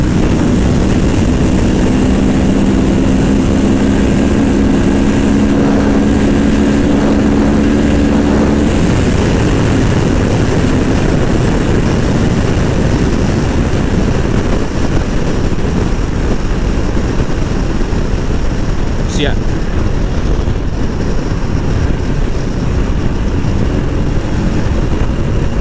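A Kawasaki Ninja 650 motorcycle cruises at speed on a freeway, a loud, constant roar of engine and rushing wind that lasts throughout, with a low droning hum fading after the first few seconds.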